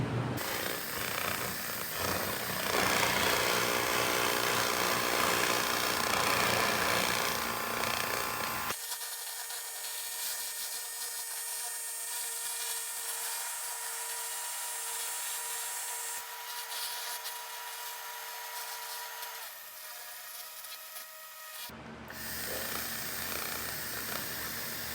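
A 2000 W continuous wave laser cleans scaling rust from a Toyota frame, making a steady buzzing, hissing drone with a dense crackle that thins partway through and continues as an even whine, with no voices.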